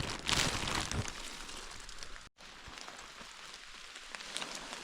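Steady rain falls through a forest during mushroom picking, a dense continuous patter on leaves and surfaces with a brief drop-out near the middle and no talking.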